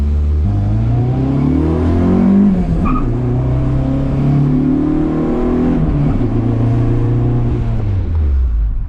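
A Honda Civic EG with a single-cam engine drones loudly and steadily from inside the car while driving, its pitch rising and falling through gear changes, with no talking.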